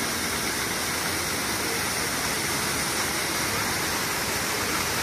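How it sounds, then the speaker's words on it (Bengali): A stream flowing toward a river on Koh Rong island in Cambodia, a loud continuous broadband rush of water that stays steady and close throughout. "ওই সামনে দেখা যাচ্ছে জল বয়ে যাচ্ছে, ওখানেই রিভার।"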